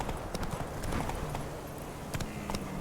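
Horse hooves clip-clopping at a steady gallop in the game Witcher 3, a rapid rhythmic beat from Roach, fairly close and continuous with occasional sharper hoof strikes.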